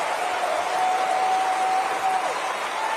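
Audience applause at a political event, a dense, continuous crowd clapping at moderate loudness that holds steady for about three seconds, with a faint sustained tone running underneath.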